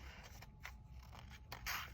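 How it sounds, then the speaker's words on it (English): Scissors snip through paper for a first-grade kite, a few quiet, close crisp cuts spaced irregularly over two seconds. "So I'm going to carefully cut."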